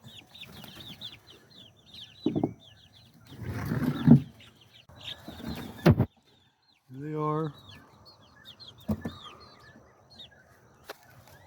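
Young chickens in a temporary coop cluck and chirp in short scattered bursts, with fowl calls close by and some rustling and brief louder thumps between them.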